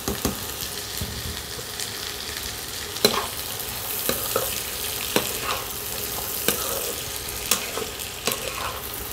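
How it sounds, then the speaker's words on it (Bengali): Chopped carrots, beans and peas stir-fry in oil in a wok, a constant loud sizzle punctuated by regular scraping knocks of a spatula against the pan. "কড়াইতে আবার তেল দিয়ে দিলাম। এবার এখানে আমি দিয়ে দিচ্ছি কুচনো গাজর,"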